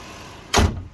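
A 1998 Lexus LX470 with automatic height control lowering its suspension from the highest level, heard as a single loud, close whoosh of release lasting about a fifth of a second, then a fading mechanical rumble.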